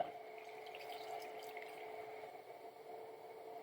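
Water and stock pour steadily into a pot of chicken curry, a continuous gentle splashing and trickling close by, with no voices.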